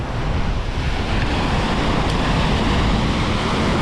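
Ocean swell crashes and roars against shoreline rocks at a New Zealand rock-fishing spot, a loud continuous wash of surf mixed with wind rumble on the microphone.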